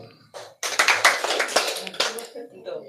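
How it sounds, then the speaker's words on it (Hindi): An audience claps hands together on cue during a talk in a hall, a dense burst of many overlapping claps that starts abruptly and keeps going in an uneven patter for a couple of seconds. "ताली बजाने हैं, 2 बोलना नहीं है, ताली बजाओ।"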